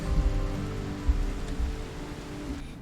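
Rain in the video game Rimworld, a soft steady patter with a low rumbling bed and a few brief louder thumps, fairly quiet and continuous.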